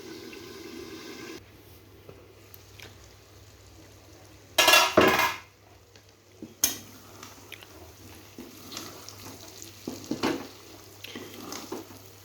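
Beef being sautéed in a pan gives scattered scraping and clinking from a stirring spoon, with one loud metallic clatter midway and quieter pan knocks after.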